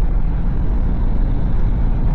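Heavy road traffic heard from inside a moving vehicle in Kuwait: a loud, steady low rumble of engines and tyres with no voices.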